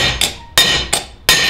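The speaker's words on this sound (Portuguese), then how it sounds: "Vai, vai, martelo, martelão." A hammer strikes a metal bracket plate for an XJ four times in an uneven rhythm, each blow loud, sharp and ringing briefly, close up and with no talk.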